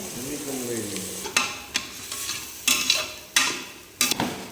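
Onions and tomatoes sautéing in a pan for biryani, with a continuous sizzle broken by several loud spoon-stirring scrapes and clanks, close up; a voice talks briefly at the start.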